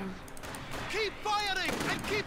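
Gunfire in the World War II strategy game Company of Heroes 2 rattles in bursts under a player's excited voice, with a faint ongoing fusillade behind the talk.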